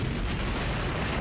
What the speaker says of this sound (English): I guess it's gonna create a big ass fireball.